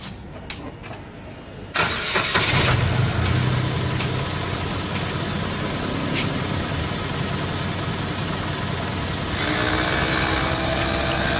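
Car engine cranked and caught after a couple of seconds, then a steady loud idle carrying on close by with no talking, before running an inflator pump plugged into the car.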